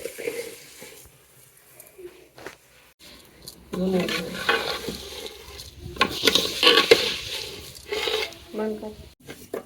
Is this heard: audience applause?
no